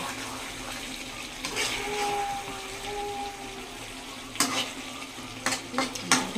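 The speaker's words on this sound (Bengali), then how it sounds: "ধনে পাতাটা দিলাম, এবার নেড়ে চেড়ে কিন্তু আমি নামিয়ে নেব।" Bhetki fish head curry is stirred in a pan after coriander leaves go in, with wet scraping clatters and knocks that grow busier toward the end over a low bubbling sizzle.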